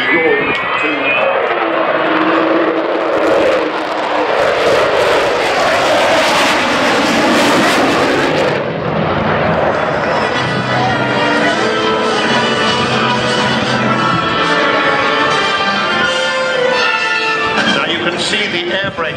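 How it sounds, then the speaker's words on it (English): Avro Vulcan bomber at the 2015 Throckmorton airshow, its four Olympus jet engines producing a loud, sustained roar that shifts in pitch as it passes close overhead in strong wind. "We just heard the beginning of the Vulcan come off from those four Olympus jet engines"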